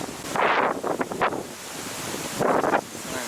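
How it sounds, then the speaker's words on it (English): Strong gusts of wind buffet the microphone on a rocky stretch of Western Australian coast, two loud rushing bursts with a quieter lull between, surf faintly underneath, no voices. "Oh, here comes the wind."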